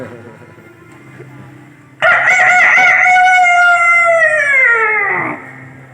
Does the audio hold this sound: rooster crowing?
yes